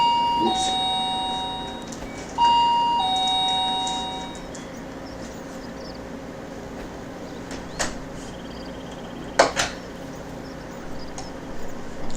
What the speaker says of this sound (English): Accidentally pressed my own doorbell